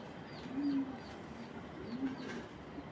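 A male cream bar pigeon gives two soft, low coos about a second apart, close by and faint against a quiet background.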